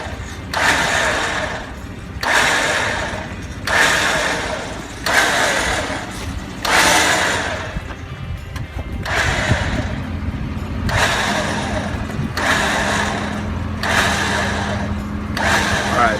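A basic hand-operated field winch is cranked in repeated bursts, each lasting about a second with short pauses between, giving a steady mechanical ratcheting rhythm close by, with no talk over it.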